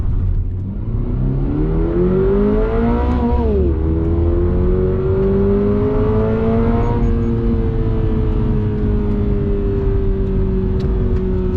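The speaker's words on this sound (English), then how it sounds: "I'm gonna do a little 0 to 60 with it." A 2022 Subaru BRZ with an automatic gearbox accelerates hard from 0 to 60, its engine roaring loud and close with pitch climbing steadily, dipping at an upshift, then climbing again to a sustained high drone.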